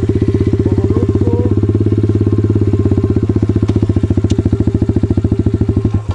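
A motorcycle engine runs loud and close in a steady, throbbing idle with only slight throttle rising as a first-time learner rider prepares to pull away; no voices over it.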